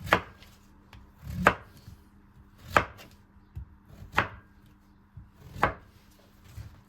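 A knife chops asparagus on a cutting board with five spaced, sharp thuds, close and clear with quiet gaps between cuts.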